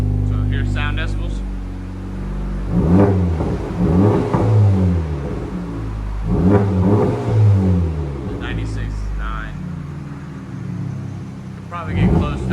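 A 2024 Honda Civic Type-R with its 2.0L turbo engine and AWE cat-back exhaust revs up close and loud in repeated surges, with a steady idle rumble between the bursts.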